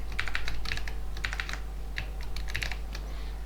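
Rapid typing on a computer keyboard, with bursts of quick key clicks and short pauses between words, close and clear with no voices.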